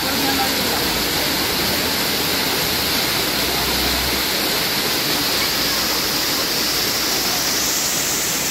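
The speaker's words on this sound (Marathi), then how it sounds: "आम्ही निघालोय त्या वॉटरफॉलच्या खाली भिजत भिजत." A monsoon waterfall at Malshej Ghat pours down in a loud, continuous roar of rushing water, close and steady, with people talking over it.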